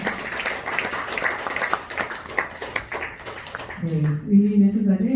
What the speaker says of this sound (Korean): 의미 있는 순간을 여러분 힘찬 박수로 축하해 주시면